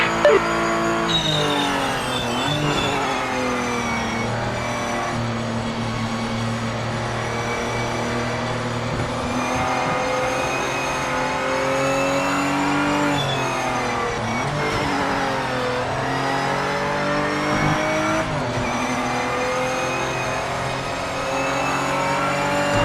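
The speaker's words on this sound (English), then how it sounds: "Good thing I do have the over rev protection turned on because I keep trying to downshift too soon." Race car engine in the Project Motor Racing video game revving hard through downshifts, a loud continuous whine with rising and falling pitch sweeps as the gears change, close and without speech.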